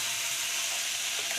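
Momos frying in a pan on a gas stove, a close, steady hiss and sizzle of oil with faint stirring clicks and no talk.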